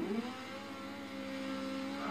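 A Ferrari F50 engine in the racing game Forza Horizon 2 holds a steady, fairly faint mid-pitched drone with a brief rising rev at the start.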